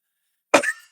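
A single short, harsh cough bursts out close by after a moment of silence.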